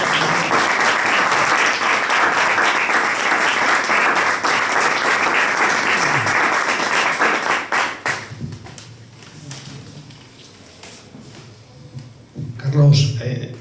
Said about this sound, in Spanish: voy a pedir un aplauso para el equipo y para Carlos